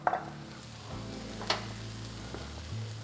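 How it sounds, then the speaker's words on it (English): A couple of English muffins sit face down on a Ninja Sizzle electric griddle, hissing with a soft, even sizzle punctuated by a few brief clicks and clatters, close by and without talk. "So I'm gonna throw on a couple English muffins, just face down."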